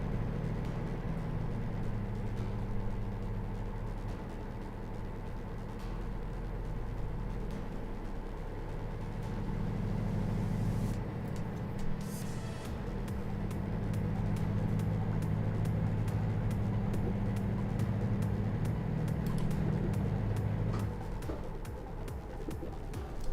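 A Volvo truck cruising in Euro Truck Simulator 2, its steady low engine drone and road rumble continuous and fairly loud throughout, with no talking over it.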